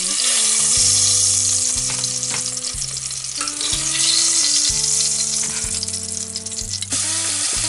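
Pork carnitas meat frying in oil that has cooled somewhat, a steady loud sizzle and crackle close up, with a clunk of utensils now and then and no voices.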